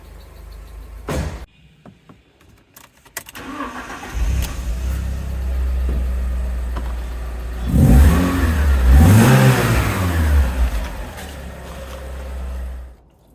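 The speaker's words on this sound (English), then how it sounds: "The engine has had a little bit of time to warm up, but if you can hear, it's a lot quieter now" An Alfa Romeo GTV engine idling after warming up, a fairly quiet steady running note that builds and swells into a couple of louder revs near the end before cutting off.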